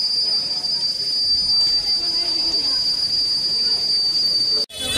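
Train wheels squeal in a loud, steady, high-pitched whine as a train pulls into the station at Kamakhya, with rail rumble beneath and an abrupt break near the end.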